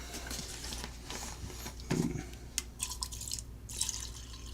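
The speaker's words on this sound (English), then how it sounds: "I'm going to drop the whole works down in a little cup, and pour some lacquer thinner in there." Lacquer thinner poured into a small cup holding the parts of a 1936 Philco 625S console radio chassis, a soft trickling and dripping of liquid with a few small splashes, close and fairly quiet.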